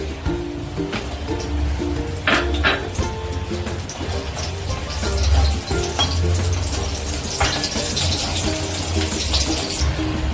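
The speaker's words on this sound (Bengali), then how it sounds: "বড়িগুলো এবার আমি ভেজে নেবো, কড়াই দিয়ে দিচ্ছি।" Bori, lentil dumplings, frying in oil in a wok for Bengali sukto, giving a steady close sizzle with occasional crackles and stirring clatters throughout, no talk.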